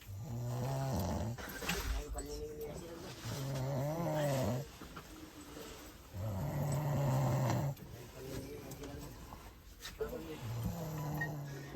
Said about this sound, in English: There was a guy snoring non-stop.